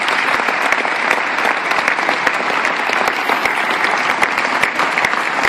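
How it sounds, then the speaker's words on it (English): A room at a team banquet breaks into a sustained round of applause for the departing captains' parents, with dense, steady clapping from many hands and a few sharp individual claps standing out near the front. "let's please give these folks a round of applause"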